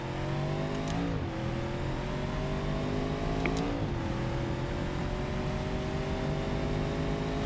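A car in a BeamNG.Drive drag race roars steadily for the whole stretch, engine pitch climbing through the gears with a couple of short dips at shifts, loud and close with no talking.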